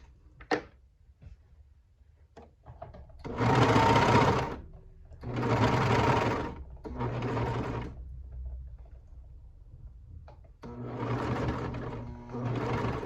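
A sewing machine stitches a pair of ruffle shorts in three loud, close bursts of a few seconds each, with quiet pauses and small handling clicks between them, then a fourth run near the end; nobody speaks.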